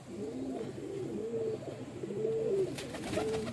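A prized flying-breed pigeon coos repeatedly, low rolling calls close by in a steady rhythm, with a few sharp knocks near the end and no talking.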